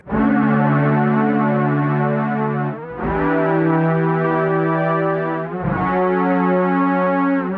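A soft, swelling synth pad from a guitar pedal, three long sustained chords each fading in and holding, with no voices.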